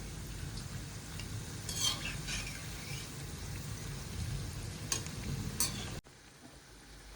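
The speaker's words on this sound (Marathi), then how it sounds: "आपण भजी मस्त दोन्ही साईडनं फ्राय करून घेऊ" Onion bhaji deep frying in oil as the fritters are flipped, a steady bubbling crackle with a few brighter scrapes and clinks of a turning utensil, close by, the frying dropping to a quieter sizzle near the end, no voices.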